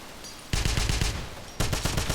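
Rapid automatic gunfire in the 2009 Wolfenstein game, two loud, close bursts of fast repeated shots, the second starting after a brief pause.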